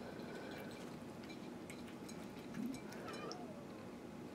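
A cat meows softly over wet tuna cat food indoors, giving a couple of brief, quiet mews against low background noise.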